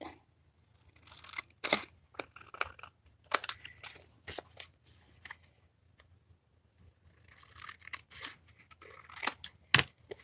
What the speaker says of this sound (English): I need to cut this down just a little bit